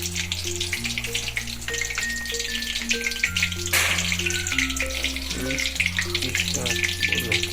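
Gravy vada Manchurian balls fry in hot oil with a steady, soft sizzle that runs throughout beneath stepping background music.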